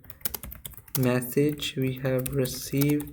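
Someone types code on a computer keyboard, with a short run of quick, light key clicks at the start before a voice takes over and speaks over the rest.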